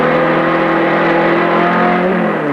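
Race car engine held at high, steady revs on a short, twisty circuit ahead of Le Mans, loud and close with a dense sustained roar throughout, slight pitch shifts near the end and no talk.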